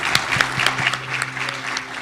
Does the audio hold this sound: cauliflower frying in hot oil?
no